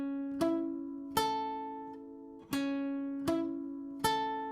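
Clean guitar notes picked one at a time on the sixth and fifth strings in a minor pentatonic pattern, five separate plucks, each ringing and decaying before the next, close and clear.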